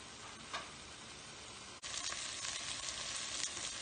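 Spinach pasta sizzles and fries quietly in a pan, a steady low crackle with a brief clunk partway through and slightly louder frying afterward.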